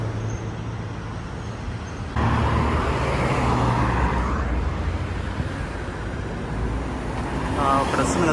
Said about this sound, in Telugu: అక్కడ వస్తుంది కదా బస్సు, అదే నేను తీసుకోవాల్సింది.